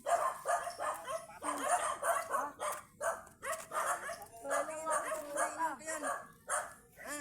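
A dog whimpers and gives repeated high yips in uneven bursts, close by, with people talking over and between the sounds.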